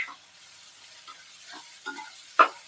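Masala frying in a pan while being stirred for a bread toast dish, heard as faint, sparse scrapes and light sizzles with one louder stir near the end, no talk.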